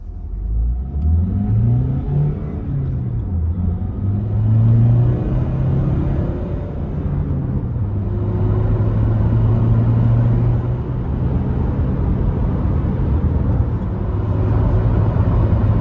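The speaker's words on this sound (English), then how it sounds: "Let's have a look at acceleration going from 0 as far as 120 kilometers an hour as we join the motorway." A 2015 Honda CR-V 1.6 diesel engine revs and pulls hard from 0 to 120 km/h joining a motorway, its pitch climbing through several gears with brief dips between shifts, a steady loud drone inside the cabin.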